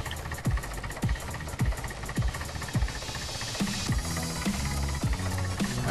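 A tractor engine idles in the video game Farming Simulator 2011, a low mechanical rumble with a series of regular, sharp knocking thumps, fairly close and steady.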